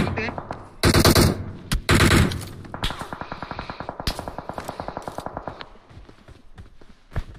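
Gunfire in the mobile game PUBG Mobile during a pro scrim: two loud sustained bursts, then a long run of rapid, evenly spaced automatic shots that trail off near the end.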